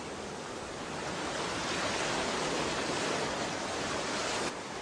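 Ocean waves pound a rocky tidepool shore in a broad, continuous roar of surf that swells slightly and then eases, steady and fairly loud, with no voices.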